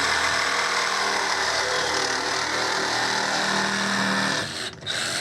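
Cutting tool slicing a refrigerant line on a failed one-year-old Carrier chiller, a steady loud whirring grind that holds for several seconds and then cuts off abruptly near the end.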